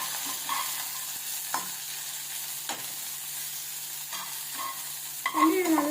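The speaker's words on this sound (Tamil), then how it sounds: "நம்ம வதக்கிடலாம்." Tomato and chili sautéing in a pan, a soft, steady sizzle with occasional stirring scrapes and taps, fairly close and even, with a brief louder rustle at the end.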